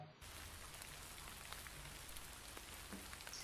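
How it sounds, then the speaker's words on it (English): Raindrops fall outdoors under darkening clouds as a continuous soft hiss with occasional faint individual drops, starting abruptly after a brief moment of silence and staying quiet and steady throughout. "When I look up, I feel cold raindrops on my face."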